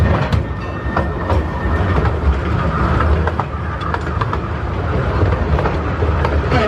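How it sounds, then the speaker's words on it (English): The Legoland Express miniature train ride at Legoland Windsor rumbles along with a constant, loud rolling clatter, wheel clicks and rattling carriages heard up close throughout. "On the Legoland Express."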